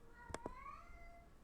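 A house cat meows once, a short, fairly faint call at a distance, followed by a quiet room with some faint background hum.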